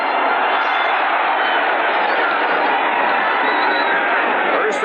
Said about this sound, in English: What an enthusiastic crowd.